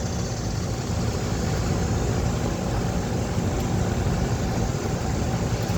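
The fan motor of a Goodman R410A air conditioner condensing unit runs at normal speed, giving off a steady, close whooshing drone with a low rumble and no talking.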